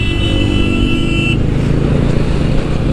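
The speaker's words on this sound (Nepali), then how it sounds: "यसरी आउँछ देखिरहेछ त बाइक आएको" A motorcycle passes on a road near Kusma, its loud engine roar and wind rumble filling the clip, with a sustained horn tone during the first moments that then cuts off.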